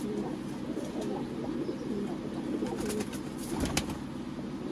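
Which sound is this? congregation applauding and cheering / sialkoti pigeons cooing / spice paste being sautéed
sialkoti pigeons cooing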